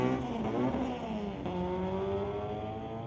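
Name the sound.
1992 Mazda Miata street-legal race car driving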